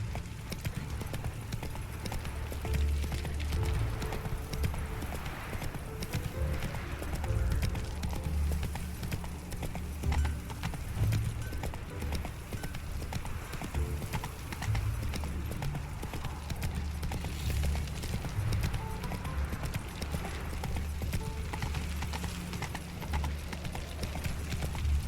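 Roach, the horse in The Witcher 3, gallops steadily with a continuous, rhythmic beat of hooves under game music, and occasional speech comes and goes over it.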